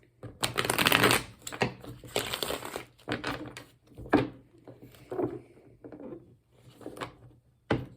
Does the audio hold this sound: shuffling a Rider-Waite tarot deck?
yes